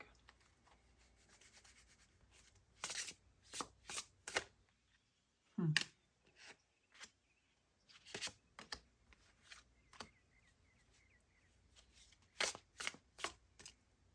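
Tarot cards are shuffled and pulled from a deck during a reading, heard as soft, close riffles, slides and flicks in separate bursts with quiet gaps between them.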